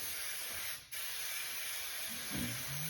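A steady, loud hiss of 3M spray adhesive runs almost continuously, with one brief break near the start and a faint low hum underneath, while working on a VW Beetle interior.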